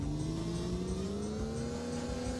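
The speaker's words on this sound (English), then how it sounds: "I can hear you buzzing in your little car. Like a bee." A small kart engine in Mario Kart 64 buzzes steadily like a bee, its tone slowly rising like a racing kart pulling away, close and continuous.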